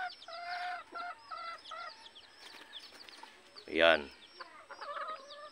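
Talisayin labuyo junglefowl clucking in short repeated bursts at close range, with a louder squawking call partway through; someone speaks briefly over the birds.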